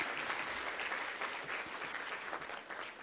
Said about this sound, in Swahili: kwa niaba ya Watanzania wote tumpe makofi mengi Mheshimiwa Rais